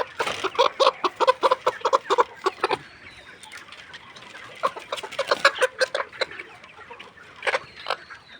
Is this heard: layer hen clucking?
yes